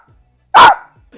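A man imitates a chihuahua with a single sharp, high yappy bark from his own voice, loud and close, set in near silence.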